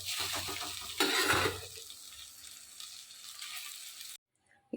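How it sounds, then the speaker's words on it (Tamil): Idli upma stir-fried in a pan: scraping and stirring with soft sizzling, loudest in a burst near the start, then quieter steady frying before a brief drop to silence. "எல்லாம் நல்லா வதங்கினோடனே நம்ம இட்லியை போட்டு நல்லா நம்ம வதக்கிக்கலாம்."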